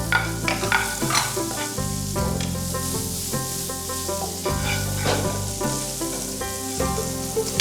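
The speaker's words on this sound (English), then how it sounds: "when it's on the verge to get brown, I'm adding our onions" Chopped onions hit a hot pan and fry with a loud, steady sizzle, while repeated stirring scrapes rise and fall over it. Close by, with no voices.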